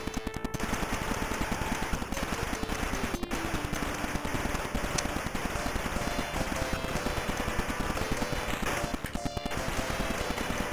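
Rapid, continuous bursts of video-game gunfire from a shooter on the PC-88/98 computer, with dense rattling shots repeating over a steady background of game sound.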